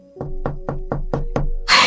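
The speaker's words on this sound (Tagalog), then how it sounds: "Sana si Arvin na yung kumakatok." Six evenly spaced, firm knocks on a door, loud and close in a quiet room, followed by a burst of noise at the end.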